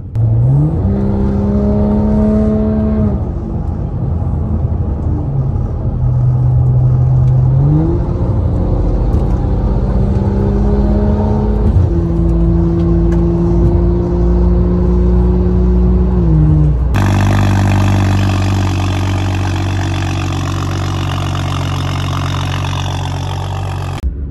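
A BMW 535i with about 130,000 miles runs steadily nearby, its engine and exhaust giving a continuous loud drone that shifts pitch in several steps, then turns rougher and fuller near the end.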